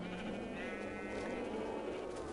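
Sheep bleating in the video game Minecraft: a single wavering, nasal bleat carried over a steady game background, fairly close but quiet.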